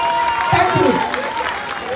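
At the opening of an Opposition Unity Party 2023 campaign office, a crowd claps for itself in continuous applause while a voice speaks briefly over the clapping.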